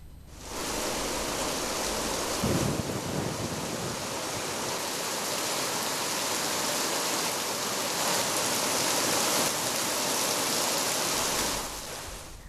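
Steady rain pours over paddy fields in Udupi during rice transplanting season, a dense, even hiss that holds for the whole stretch, with no voices.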